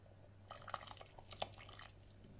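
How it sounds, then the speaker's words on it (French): A flour and water mixture being poured into a pot of Moroccan harira soup, a soft liquid trickle with small drips and splashes over a low steady hum, no voices. "on va rajouter le mélange de la farine et l'eau"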